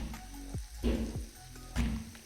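Chicken liver frying in a hot pan while water goes in, giving bursts of loud sizzling and hissing with short spluttering pops, rising and falling in two or three surges.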